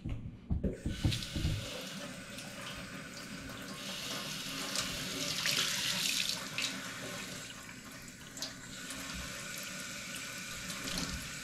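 Cold tap water runs into a sink to cool freshly made homemade butter, a faint, steady splashing stream with a few knocks at the start.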